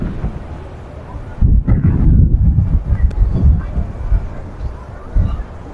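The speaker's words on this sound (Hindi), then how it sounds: "काफ़ी तेज़ हवा चल रही है।" Strong wind blows outdoors at Masjid an-Nabawi in Madina, buffeting the microphone with loud, low rumbling gusts that rise sharply after a second and keep roaring unevenly to the end.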